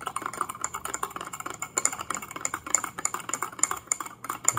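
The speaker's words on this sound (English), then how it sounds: "give it a stir" A spoon stirs monk fruit sweetener into a 2.5-shot latte in a cup, giving quick, irregular light clinking and rattling taps, close up and without talk.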